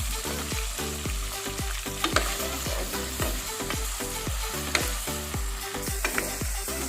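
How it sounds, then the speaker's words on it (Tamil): Chicken pieces fry in hot sesame oil, a dense, continuous sizzle with a steady crackle and occasional pops while being stirred, close and alone without speech. "சிக்கன் சேர்த்து நல்லா ஃப்ரை ஆகட்டும்."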